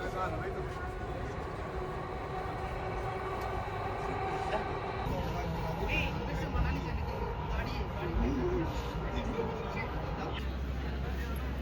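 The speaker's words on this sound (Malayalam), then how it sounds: "അപ്പോൾ അങ്ങനെ നമ്മൾ കാശ്മീർ ഗേറ്റ് മെട്രോ സ്റ്റേഷനിൽ എത്തിയിരിക്കുകയാണ്" A metro train rumbles steadily through Kashmere Gate metro station in Delhi, a busy interchange, a loud continuous roar with a murmur of crowd voices underneath.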